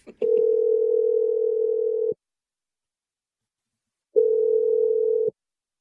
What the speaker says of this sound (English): I'm going to dial this number.